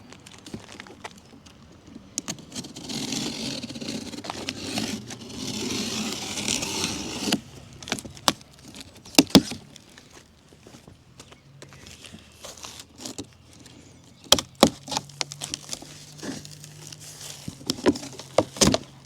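Cardboard box of a cheap aftermarket exhaust kit for a Lexus RC being opened, with rustling, creaks and clanks of loose parts and hardware, close by and irregular with intermittent sharp knocks.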